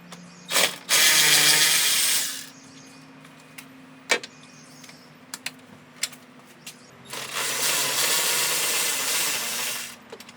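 A ratchet wrench loosens shroud bolts on a Ford 5.4 radiator, with two bursts of rapid clicking ratchet strokes separated by scattered taps and clinks of the tool.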